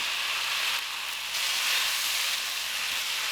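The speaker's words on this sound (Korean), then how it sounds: "잘 섞어주다가 들깻잎을 넣고 숨이 죽을 정도로만 볶으면 끝입니다." A bright, constant sizzling hiss comes from sundae (Korean blood sausage) stir-fried in a hot pan with green onion, chili, sugar, perilla seed powder and perilla leaves, swelling slightly midway without any voices.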